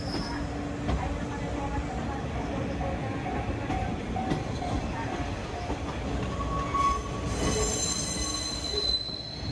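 Belmontana sightseeing train rolling slowly through track points at Takaoka Station, with sustained metallic wheel squeal and occasional clunks over the rail joints, heard close up from an open window amid steady rumble.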